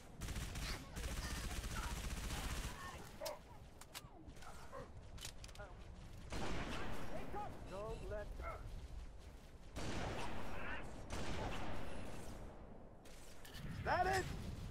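Gunfire in a Halo 3: ODST firefight, with bursts of automatic weapons and explosions at mid distance, rising and falling across the stretch under shouted soldier dialogue.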